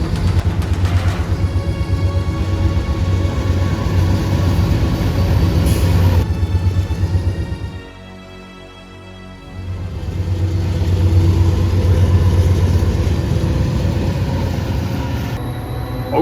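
Heavy freight locomotives labor uphill shoving three dead engines on a mountain railroad, a loud steady rumble of diesel engines and rolling cars that dips briefly quieter midway before swelling back, with no talk.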